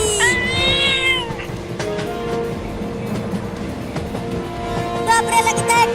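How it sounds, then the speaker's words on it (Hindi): Several loud, drawn-out cartoon cat meows near the start and again at the end, over a steady rumbling background of a moving train. "नहीं तो ये खतरनाक बिल्ली मुझे काट लेगी।"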